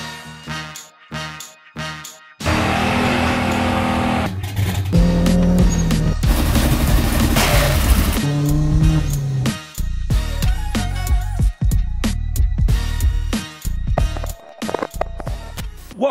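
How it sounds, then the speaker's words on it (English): A Chevy Cruze 1.8 turbo with new cams and turbo pulls away on a test drive. The engine revs loud and close, with a long surging acceleration in the middle and sharp bursts and pops around it. "Let's take the Cruze for its first test drive on the new cams and turbo and take her for a rip."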